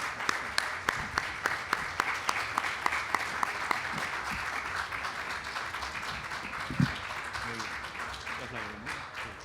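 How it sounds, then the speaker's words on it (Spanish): An audience applauds after a book presentation, with sharp individual claps standing out early before the clapping settles into a steady, dense wash of hands that carries on to the end. "le demos ahora un fuerte aplauso para despedirlo"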